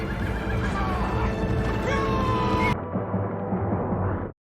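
A horse whinnies during a film's battle scene from a samurai war drama, heard loudly within a dense mix of battle sound and music that cuts to a quieter background near the end.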